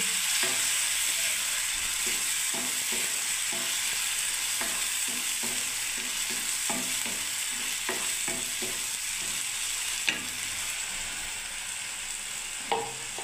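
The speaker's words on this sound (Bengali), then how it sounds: "দেখুন আমি এবারে এটাকে মশলাটাকে ঢেলে দিলাম, সর্ষে, বাদাম, একটু জিরে গুঁড়ো, একটু বন্ধুরা ধনে গুঁড়ো" Mustard seeds, peanuts, cumin, coriander and turmeric fry in a pan with a steady, close sizzle, broken by repeated scraping clicks of stirring and a couple of sharper knocks.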